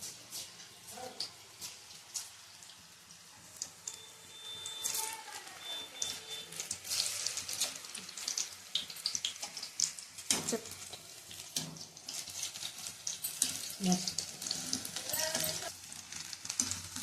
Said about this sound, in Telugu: నూనె వేడయ్యాక అవి పకోడీలాగా కొంచెం కొంచెం వేసుకోవాలి.